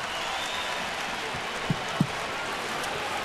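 The crowd at an NHL game between the San Jose Sharks and Toronto Maple Leafs in Toronto roars in a steady wash of cheering and applause during overtime, with a couple of brief thumps.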